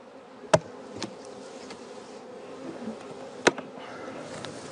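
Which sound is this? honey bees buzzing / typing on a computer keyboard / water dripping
honey bees buzzing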